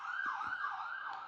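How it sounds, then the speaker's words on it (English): Emergency vehicle siren wailing on a Toronto city street, a continuous rising and falling tone heard close and loud with traffic noise beneath. "Oh, the sirens."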